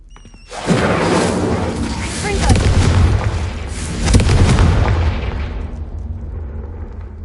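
A Confringo blasting spell goes off in a Harry Potter video game as a loud, close, booming explosion. A second heavy blast swells a few seconds later, and the rumble then fades away.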